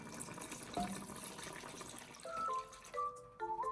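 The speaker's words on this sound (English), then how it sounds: "Now we're going to add the water." Water poured into a pot of Moroccan lamb stew, a soft splashing trickle that turns into a rising, gurgling fill toward the end, fairly quiet and close.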